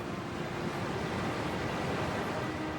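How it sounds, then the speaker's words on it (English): Heavy storm waves pound a ferry at sea, a steady loud roar of surging water and wind with no distinct individual impacts, continuous throughout. "Large waves pound the boat."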